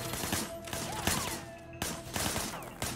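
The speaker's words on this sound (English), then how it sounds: "but sure, let's just shoot all this." Gunfire in the Sleeping Dogs video game, rapid bursts of shots cracking in clusters across a few seconds, loud and close, with other game sounds in between.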